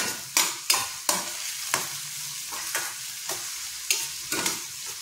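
A tomato and onion mixture sautéing in a pan, with a constant sizzle broken by a series of sharp, close spatula scrapes and stirs at irregular intervals.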